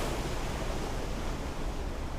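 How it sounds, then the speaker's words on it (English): Churning water and thrown-up spray at Murchison Falls make a dense, steady roar that fills the whole stretch without pause, with no voices. "that is the spray that is being thrown up by the Murchison Falls"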